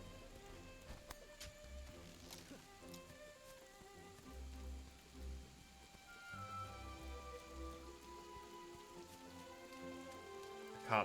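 Rain falling in the video game Monster Hunter: World, a soft steady patter under game music and scattered effects, fairly faint throughout with no speech.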